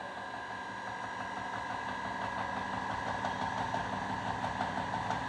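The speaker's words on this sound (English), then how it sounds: "Now press the first button to start the motor." A three-phase motor driven by an Arduino-based VVVF inverter from a roughly 417-volt DC supply hums steadily with a constant whine and tonal bands, running alone at a moderate level.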